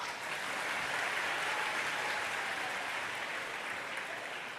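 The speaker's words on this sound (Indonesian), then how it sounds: "Tepuk tangan lagi ya." An audience at a religious lecture at a halal bihalal gathering claps together, a dense, even wash of applause that holds steady for several seconds, slightly distant.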